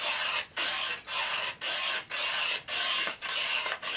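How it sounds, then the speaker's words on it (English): Rhythmic rasping strokes of a blade scraping a small wooden axe handle smooth, about eight even passes with short pauses between, close and clear with no talk. "Another thing I do when finishing them up, smoothing them up, shaping them, is I scrape a lot."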